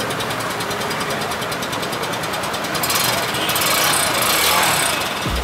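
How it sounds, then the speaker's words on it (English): Bajaj Pulsar 160NS motorcycle with a BS4 engine and underbelly exhaust, idling with a steady rapid thrum close by, then the revs rise briefly before settling. "So let us now listen to the exhaust note of this bike."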